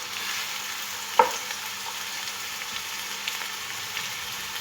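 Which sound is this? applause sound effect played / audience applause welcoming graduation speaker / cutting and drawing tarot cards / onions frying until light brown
onions frying until light brown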